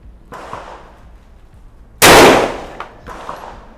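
A Khan Arms MLT 12 shotgun fires a single loud, sharp blast during sight zeroing at a range, with a decaying echo. Faint shuffling comes before and after the shot.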